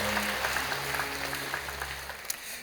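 A congregation gives sustained applause during a Korean Sunday church service. Many hands clap in a dense, even wash over a low organ-like hum, with a single sharper clap standing out near the end.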